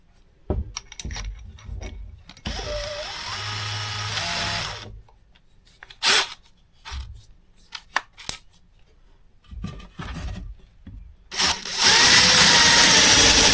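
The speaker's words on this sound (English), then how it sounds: "This is a very dull drill bit." A Craftsman brushless cordless drill bores into wood with a dull bit, in several separate bursts of whirring and grinding with pauses and clicks between, the last run loud and sustained.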